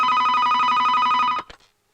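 A telephone rings loud and close with a steady electronic bell tone, then cuts off abruptly partway through as if answered, followed by a brief clatter and silence.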